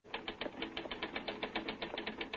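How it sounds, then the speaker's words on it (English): Rapid, even typewriter keystrokes clatter in a steady run of sharp clicks from a 1946 radio drama newsroom office, close and fairly loud throughout, with no voices. "Get that typewriter."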